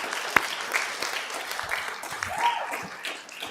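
Scattered applause from a small audience after a talk on mindfulness meditation, a moderate patter of hands clapping that swells slightly and thins out, with a sharp single clap near the start.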